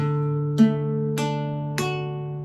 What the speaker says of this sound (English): you can also try picking one string at a time as well